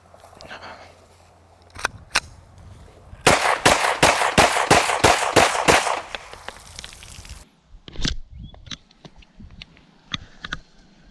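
Glock 17 and Hi-Point pistols firing during a mud reliability test: a few single sharp shots, then a rapid string of about ten loud reports, followed by scattered further shots, all outdoors and close.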